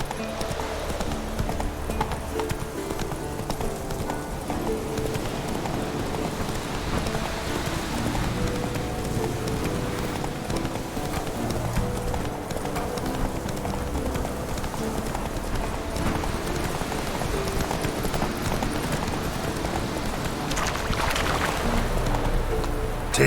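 Roach, the horse in the video game Witcher 3, trots with steady rhythmic clip-clopping hooves throughout, close and continuous over a soft ambient background.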